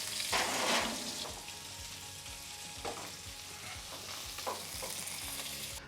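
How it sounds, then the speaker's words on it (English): Chipotle salmon sears in a hot pan with a dense, steady sizzle, broken by a few louder spatters and the scrape of the pan being moved or stirred. "What I am doing is giving color to the salmon."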